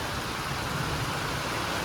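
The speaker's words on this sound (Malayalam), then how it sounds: "നല്ല കാറ്റും നല്ല മഴയും" Heavy rain with wind in Kerala produces a dense, unbroken wash of noise over a short stretch, loud and constant with no voices.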